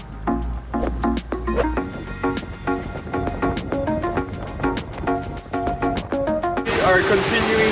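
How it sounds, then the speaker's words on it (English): Big ocean waves hit a sailboat in rough water on a passage to Carriacou, a steady loud rush and slap of water against the hull with faint voices mixed in. "now we are in the rough part and the waves are pretty big and they're almost head-on sideways"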